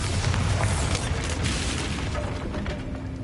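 A Bombarda spell blast in the video game Hogwarts Legacy: a loud, booming burst with a rumbling, crackling body that slowly fades, heard alone without speech.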